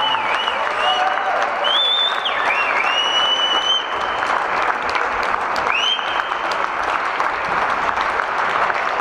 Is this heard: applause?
yes